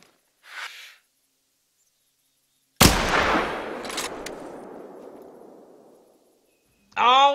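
A single loud rifle shot at an animal in the hunting game theHunter: Call of the Wild: a sharp crack that rolls into a long, slowly fading echo, with a faint sound beforehand and a voice starting at the end.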